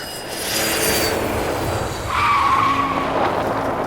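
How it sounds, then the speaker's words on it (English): Black Gulfstream 650 jet touching down on a remote grass airstrip as an audio drama effect: a loud, steady jet roar swells with a high turbine whine and a skidding rush, and no one speaks. "The black Gulfstream 650 jet landed on the remote grass airstrip near the Catskill Mountains of upstate New York."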